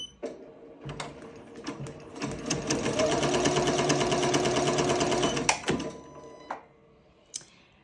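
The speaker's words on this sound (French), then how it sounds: "Il faut bien penser à relancer sa machine." A Ricoma MT 2001 embroidery machine starts up and stitches rapidly for a few seconds with a fast, even mechanical chatter, then stops, with clicks before and after.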